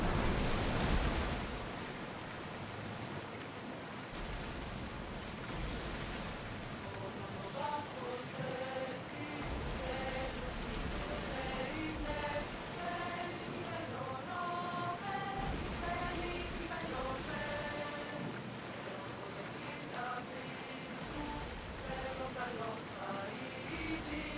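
A ship sails across ocean waves in Assassin's Creed Odyssey, a steady broadband wash of surf and wind lasting throughout, with voices calling out over it.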